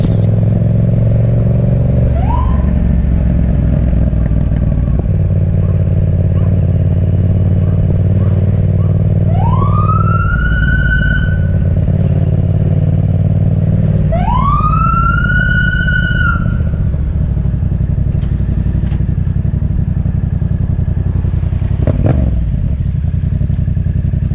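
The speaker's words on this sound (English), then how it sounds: "And suddenly, sirens lit up behind him." A police siren wails in rising sweeps over a loud, steady engine rumble, with brief clatter and no speech.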